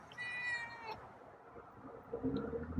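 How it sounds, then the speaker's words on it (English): A cat gives a clear, drawn-out meow close by, followed by quieter mewing sounds a moment later. "got a meow tonight"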